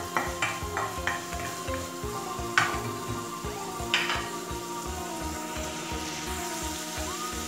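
Eggplant frying in hot oil and rendered pork fat, a steady dense sizzle with crackling pops and occasional sharper spatters, close and loud with no talk.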